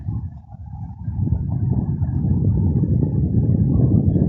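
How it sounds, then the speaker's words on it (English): Steady low roaring buffet of wind across a microphone, rising slightly and continuing without a break, with no voices. "It's very, very windy, excuse the noise."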